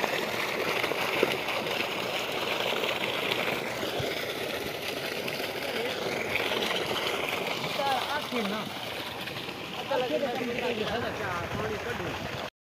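Pump engine running steadily to drain water from a flooded field of ripe hybrid rice near harvest, with gurgling, splashing water throughout and voices talking over it.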